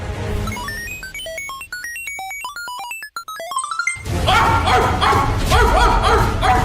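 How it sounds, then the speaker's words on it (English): A dog barks and yips loudly and close after a bright, plinking melodic intro, the barking bursts piling up in a noisy, chaotic stretch. "A dog? Why would you be a dog?"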